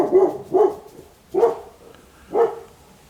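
Dogs bark close by in four distinct woofs, two quick ones followed by two more spaced out, with no talking over them.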